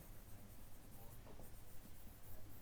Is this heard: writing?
yes